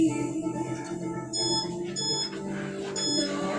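A workout interval timer sounds an alarm, a series of short electronic beeps repeating in bursts at a moderate, fairly faint level over a low background hum.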